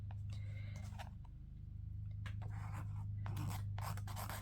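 Scratchy strokes from an Incredible Nib pen dragging ink across paper, a series of short, faint rubbing bursts against a steady low background hum.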